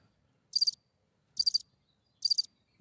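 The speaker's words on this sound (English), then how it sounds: "Those are real crickets here that are running around outside." Three short, bright chirps from real crickets outdoors, each a rapid trill, evenly spaced about a second apart against near silence.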